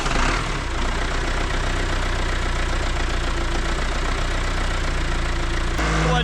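John Deere diesel engine with a newly replaced Stanadyne injection pump, starting and then idling loudly and steadily up close with a low knocking rhythm that runs nearly without pause until a brief change near the end.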